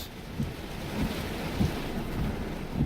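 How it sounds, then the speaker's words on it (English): Heavy rain and strong wind batter a vehicle during a tornado storm, forming a dense, continuous roar with low rumbling surges and gusts that rise and fall, close and loud, with no voices. "A lot of rain, a lot of wind"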